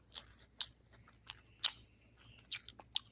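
Crisp, crunchy bites and chewing on skillet-fried chicken, with several sharp crackles spaced irregularly, close up and fairly quiet, no talking.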